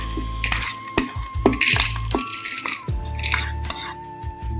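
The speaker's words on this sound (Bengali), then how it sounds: "প্রেসার কুকারে আমি এই ছোলার ডালটা ঢেলে নিচ্ছি।" Chana dal poured into a pressure cooker gives a series of close metallic clinks and clatters, some sharp ringing knocks against the pot over a few seconds, with no talking.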